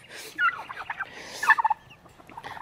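Baby chickens in a barn give soft, high clucks and chirps in short irregular bursts, fairly quiet and close, with no talking.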